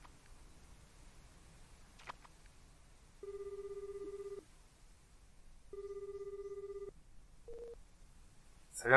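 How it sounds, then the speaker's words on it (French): A mobile phone in a bag rings in the video game Astlibra, sounding two long, even electronic ring tones with a pause between them, then a brief chirp, over a quiet backdrop with faint game sounds. "Ouais, c'est le téléphone. C'est le portable."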